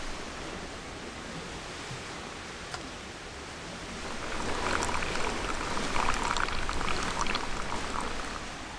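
A pot of water heating over a campfire in a snowy Danish winter camp gives a steady, noisy hiss, and a louder, crackly bubbling picks up halfway through.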